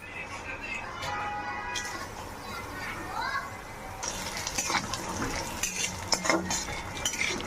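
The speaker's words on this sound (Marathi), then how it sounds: "तूप तापत ठेवलं आहे, त्याच्यामध्ये खारीक फ्राय करूया" Dried dates frying in hot ghee hiss softly while a spoon clinks and scrapes against the pan. The stirring grows busier partway through, and faint voices sound in the background.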